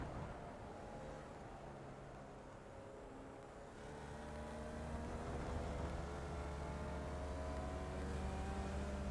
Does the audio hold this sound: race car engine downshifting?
yes